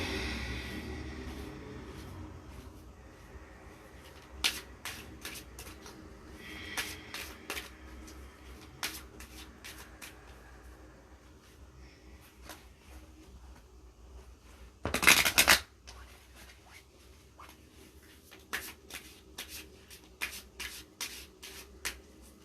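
A deck of chakra reading cards is shuffled by hand in a quiet room, with soft continuous riffling broken by repeated crisp card snaps and one brief louder flurry, and no talking.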